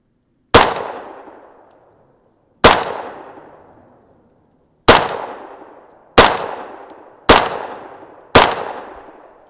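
Six sharp, close reports from a 300 Blackout rifle firing subsonic powder-coated bullets loaded with AA1680 powder, spaced irregularly a second or two apart, each a crisp crack with a short decaying tail, no talk.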